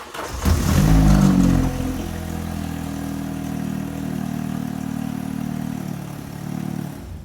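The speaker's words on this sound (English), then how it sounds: "she is up and running under her own power now. We can hear a major blow from the exhaust" A Vauxhall Calibra engine fires up with a loud surge of revs, then settles into a steady, rumbling idle with a heavy exhaust blow, running close and alone without talk.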